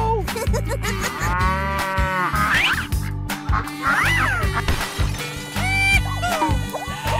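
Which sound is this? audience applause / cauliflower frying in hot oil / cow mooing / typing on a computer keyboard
cow mooing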